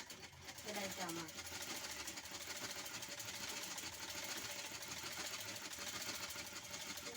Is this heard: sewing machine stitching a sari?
yes